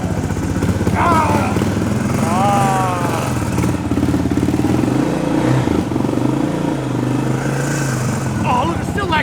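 A 1990 Suzuki DR650 R Dakar motorcycle engine, freshly restored, runs steadily at close range with a continuous loud thumping idle after a kick start, while people talk over it.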